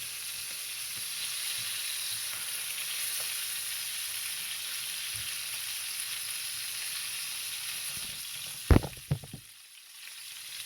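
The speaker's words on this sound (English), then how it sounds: "you got to spin the meat around to try to make sure it's fried evenly" Chicken pieces frying in a pan give a steady, soft sizzle throughout, ending with a few sharp knocks and scrapes of a utensil turning the meat.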